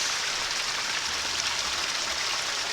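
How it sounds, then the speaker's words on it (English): Water pours steadily from a shower head, a dense, even hiss of spray that holds at a constant level throughout with no talking. "That's the sound of a shower head."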